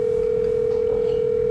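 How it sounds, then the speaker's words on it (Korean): A telephone dial tone sounds while a call is being placed: one steady, unbroken pitched hum that stays even and clear from start to finish, with nobody talking over it. "아 그럼 내가 용희한테 전화를 해볼게"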